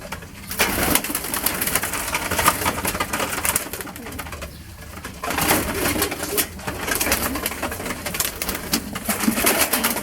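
Homing pigeons, a male and a female, coo and rustle while being caught by hand, their calls repeating steadily and close by through a busy, noisy stretch.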